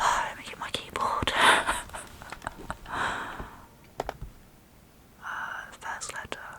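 Soft computer keyboard typing in a quiet room, scattered light key taps and short clicking runs, close and gentle, with whispering between the keystrokes.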